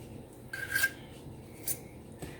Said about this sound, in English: let me scrape this off here